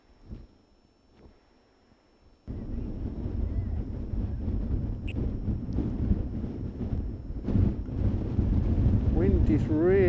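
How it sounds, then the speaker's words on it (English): Strong wind at Land's End on the Cornish coast buffets the microphone, starting abruptly after a quiet moment and then roaring in a loud, continuous, gusting rush. "Wind is really picking up very, very strong at the moment."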